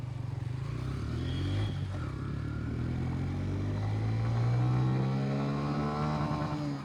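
A 2025 Honda CB125 Hornet's 125cc engine pulls steadily in second gear, its pitch climbing smoothly as it accelerates, heard close and alone.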